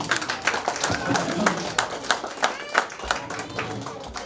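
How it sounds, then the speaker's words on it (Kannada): Audience at a preschool annual day gives a burst of clapping, steady mixed hand claps from a crowd running throughout, with voices murmuring underneath. "ಅವರಿಗೊಂದು ದೊಡ್ಡ ಚಪ್ಪಾಳೆ"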